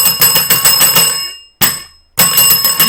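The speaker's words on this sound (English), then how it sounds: "and that's the last one you need, and you ring the bell!" A bell rung in a card trading game, three bright metallic rings, the first sustained and trailing off, followed by two shorter rings separated by abrupt silences, loud and close with no voices.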